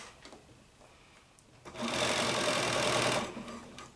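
Sewing machine stitching a blouse seam: a faint start, then a loud sustained run of fast stitching lasting over a second before slowing and trailing off.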